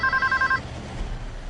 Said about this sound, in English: phones were also ringing at American Airlines